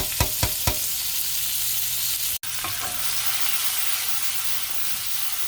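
Fresh vegetables such as squash sauté with dill and parsley in a hot pan, a loud, continuous close sizzle broken by a few sharp utensil knocks near the start and one abrupt cut midway.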